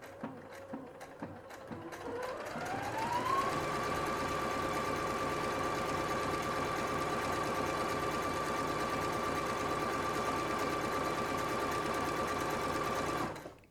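A Singer SE9185 sewing and embroidery machine starts with a few slow clicks, ramps up, then stitches in a steady, close, whirring mechanical run for about ten seconds before stopping abruptly.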